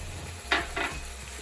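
Spices go into a pan of hot oil for chicken pulao, with two quick bursts of scraping and sizzling close by over a quiet low hum, no speech.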